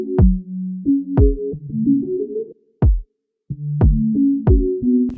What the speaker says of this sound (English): So kick pattern went like this.